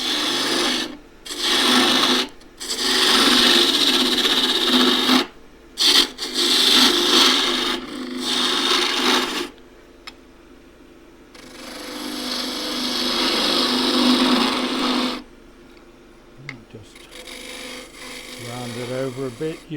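Woodturning tool cutting a small twig pot spinning on a lathe between centres, the tool's wing working as a shear scraper to shape a flared top; a steady rasping scrape comes in long bursts broken by short pauses, close and fairly loud.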